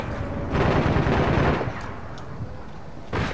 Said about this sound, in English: Who the fuck throwing grenades at me?